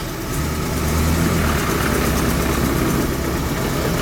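A car with a T5 gearbox taken from a 1998 V6 Mustang runs with a steady, loud engine drone and a continuous buzzing vibration, close up and with no talking.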